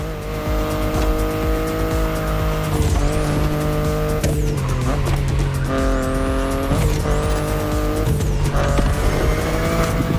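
BMW i8 sports car driven in The Crew Motorfest racing game, engine note rising and dropping through repeated gear shifts with tire squeals and skids, loud and continuous with no talk.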